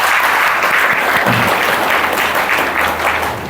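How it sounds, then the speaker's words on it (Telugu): A church congregation at a Eucharistic adoration service claps loudly and continuously, a dense, steady burst of applause that fades slightly at the end. "మళ్ళీ ఒకసారి గట్టిగా చప్పట్లు దేవుడు."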